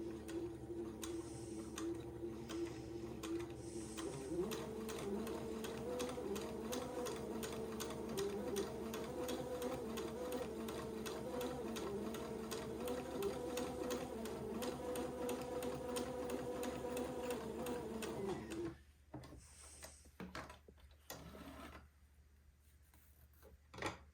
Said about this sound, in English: Now I'm going to sew the other side before I sew the point.